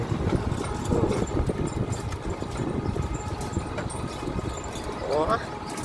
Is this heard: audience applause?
no